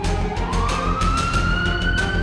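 A loud electronic police siren in a video game wails steadily upward in pitch, with rhythmic pulsing beneath it.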